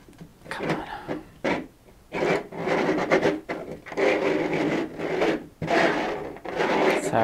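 Wood being routed out by hand while fitting a 3D printer upgrade: scraping and rasping strokes in uneven bursts, some short and some sustained, close and fairly loud, with brief pauses between passes.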